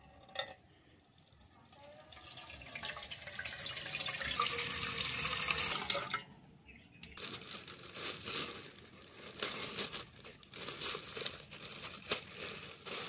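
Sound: water filling a bowl to soak puffed rice

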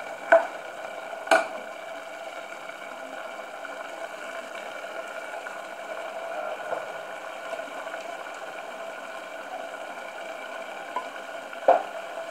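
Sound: garlic frying in oil in a pot

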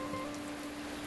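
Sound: rain falling

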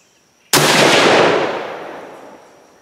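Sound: rifle shot with 40.8 grains Ramshot TAC powder load

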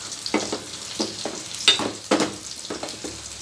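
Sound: brinjal and drumstick sautéing in a pan

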